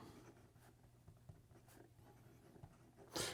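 A Monteverde Ritma fountain pen with a medium stainless steel nib writes on paper in blue ink, giving soft, faint scratching strokes with a few light taps, close and quiet, ending in a brief louder rustle.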